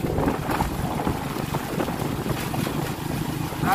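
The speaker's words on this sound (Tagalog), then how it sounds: "Ang lakas ng hangin, my goodness." Strong typhoon wind in Pangasinan, Philippines, buffets and roars steadily across the microphone, a loud continuous rush with gusty surges and no voices.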